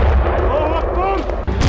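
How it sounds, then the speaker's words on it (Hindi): Rocket fired from a ruined house at Israeli soldiers in a war zone: a loud, sustained blast roar dominating throughout, with a sharp burst near the end. "तभी एक खंडर हो चुके घर से रॉकेट दागा जाता है। तेज धमाका और आग की लपटों में इजरायली"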